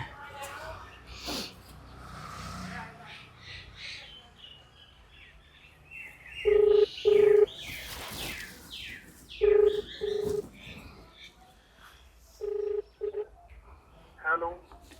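Short bursts of electronic keypad tones, a few presses at a time in three groups, ring out clearly over ongoing conversation and background voices.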